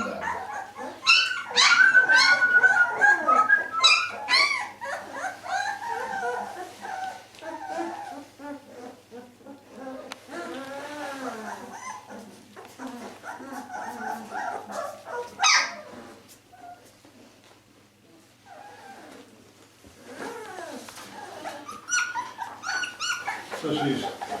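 Berger Blanc puppies about two and a half weeks old whimper and yip in a litter, with thin high cries coming in clusters and a human voice speaking softly over them at times.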